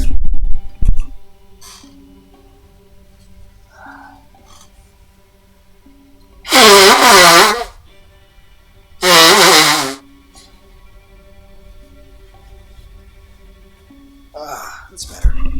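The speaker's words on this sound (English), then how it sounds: "I'm gonna blow my nose" A person blows their stuffy nose twice, two loud, harsh bursts of about a second each, close to the microphone, with quiet room noise between them.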